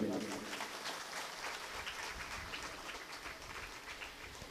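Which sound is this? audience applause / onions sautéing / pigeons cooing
audience applause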